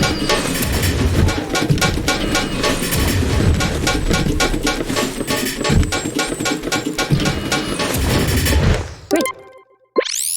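Cannons in a video game fire cannonballs in a dense, loud barrage of repeated booming thuds and crashes that runs almost continuously, then cuts out abruptly near the end.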